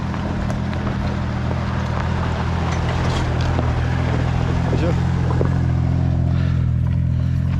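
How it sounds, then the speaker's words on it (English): A vehicle on a mountain road in the Mont Blanc area near Chamonix passes with a loud, steady low engine rumble mixed with wind noise that carries through the whole stretch. "Just going to wait for this vehicle to drive past."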